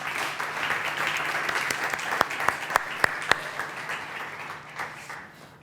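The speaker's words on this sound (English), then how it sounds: "please give a warm round of applause to our 2 main speakers" An audience at an afternoon talk on artificial intelligence applauds its two main speakers with steady, sustained clapping and a few sharp nearby claps standing out, before the applause gradually thins and fades.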